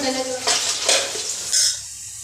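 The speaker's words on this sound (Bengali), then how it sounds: "তো এই যে কড়ার মধ্যে যে মাছগুলো সবগুলো দিয়ে দিতে হবে" Fish frying in a wok (kadai) for a Bengali home-cooked meal gives a close, loud hissing sizzle in short swells as the pieces are stirred, with no talking.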